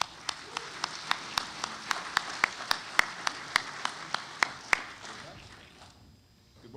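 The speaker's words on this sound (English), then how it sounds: "Ladies and gentlemen, a round of applause, Frank Smith." Audience applause welcoming a photographer onto the stage at a photo expo, with a run of crisp, evenly spaced claps standing out over softer crowd clapping that tapers off and fades to quiet near the end.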